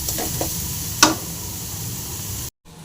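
Sliced onions with salt fry in a pan for egg curry, giving a steady close sizzling hiss with a single clack of a spoon partway through, then a brief silence near the end.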